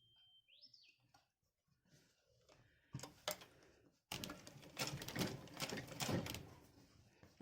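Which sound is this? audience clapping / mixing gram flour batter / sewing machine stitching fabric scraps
sewing machine stitching fabric scraps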